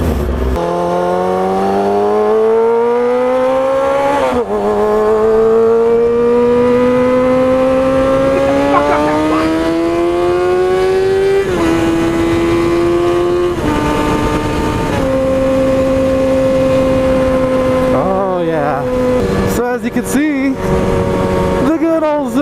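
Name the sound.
motorcycle being ridden, engine revving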